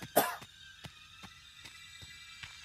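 A man coughs once in the background, a short muffled burst early on, followed by faint soft clicks and quiet throat noises.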